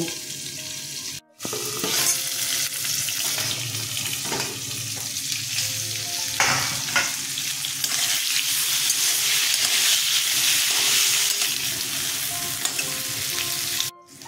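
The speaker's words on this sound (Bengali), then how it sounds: "পটলগুলো ভাজা হয়ে গেছে, তুলে নিচ্ছি" Pointed gourd frying in a pan with a little salt and turmeric gives a steady, close crackling sizzle, with stirring scrapes and a brief gap early on, continuing evenly to the end.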